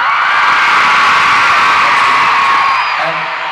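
A large concert crowd at a show in Sheffield screams continuously and loudly for the whole stretch, a dense wall of high-pitched shrieks and cheers that eases slightly toward the end.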